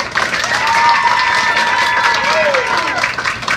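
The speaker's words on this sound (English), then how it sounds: "Everybody clap real big." Crowd at a Pop Warner youth football event clapping and cheering loudly on cue, a dense steady wash of applause with shouts and whistles throughout.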